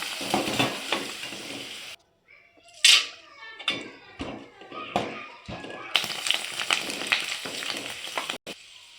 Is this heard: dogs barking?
no